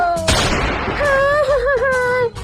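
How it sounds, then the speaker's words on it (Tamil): A firecracker rocket goes off with a loud, close broadband burst, followed by a wavering, whining tone that trails off after about two seconds. "நீங்க ரெண்டு பேரும் சேர்ந்து என் பட்டாசைய வெடிச்சிட்டீங்க"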